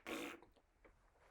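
A voice imitates a fart noise with one short, quiet, buzzing burst at the start, followed by faint low murmuring.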